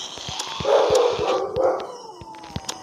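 A dog next to a house lets out a few close, loud barks that stretch into a howling whine, over steady clicking and tapping and a faint high whistle.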